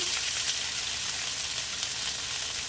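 Ginger paste sizzles in a pan over a low gas flame, a steady close crackling fry with slight surges, no talking.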